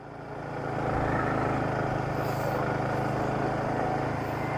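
A motorcycle engine hums along a winding, steep mountain road, its steady mid-pitched drone swelling as it draws near and then holding close and constant.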